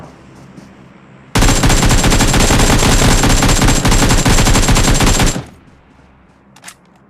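Rapid automatic gunfire from a mobile shooting game erupts suddenly and loudly, a continuous burst of dense shots lasting about four seconds before stopping cleanly, with quiet ambience around it.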